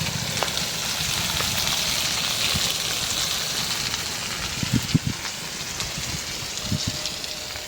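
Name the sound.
potatoes frying with salt in a pan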